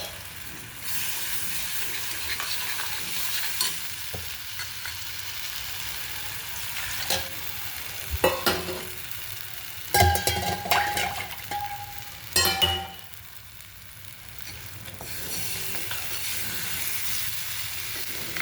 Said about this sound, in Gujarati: હવે આપણે આ જે ચણાનો ઘોળ કર્યો છે તે નાખી દેવાનો.